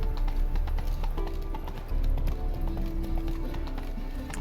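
Horse hooves clip-clop in The Witcher 3, a brisk, steady run of close hoofbeats with ambient game sound underneath.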